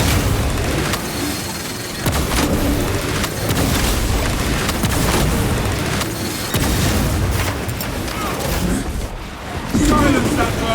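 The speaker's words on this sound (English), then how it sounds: "Throwing frag grenade!" A frag grenade blast in Warhammer 40k Space Marine 2 lands amid dense, continuous battle noise of booms and gunfire, loud and layered throughout with no single isolated explosion standing out.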